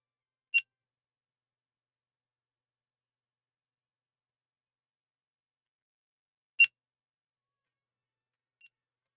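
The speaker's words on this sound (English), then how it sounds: "It's beeping because it's dying." A battery-powered device low on charge gives short, sharp electronic beeps spaced several seconds apart, two clear chirps and a fainter third, alone in near silence.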